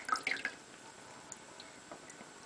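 Water drips and splashes lightly during a baby's bath, a brief cluster of droplets at the start followed by faint, sparse drips.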